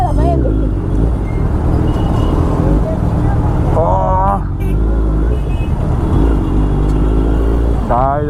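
Road traffic in a city street, with a steady loud rumble of car and motorcycle engines and occasional horn-like tones, heard continuously under people talking nearby.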